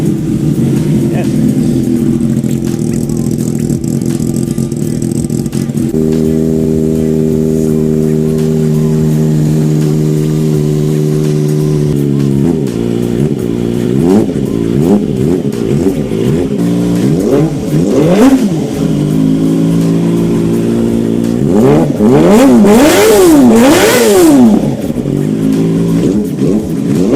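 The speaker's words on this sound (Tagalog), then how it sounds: "Check natin kung magkaka-problem pa sa tunog 2-cylinder." Kawasaki ZX25R motorcycle's engine idling and then revving in repeated throttle blips that climb higher toward the end, loud and close, checked for a twin-cylinder sound fault after fuel pump cleaning.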